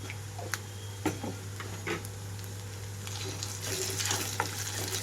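Ginger garlic paste and onions fry in a pan with a steady, moderately loud sizzle, broken by a few sharp clicks and scrapes from stirring.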